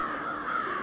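Crows in the horror game Huntsman: The Orphanage give a continuous harsh cawing, loud and steady for under a second with no talk.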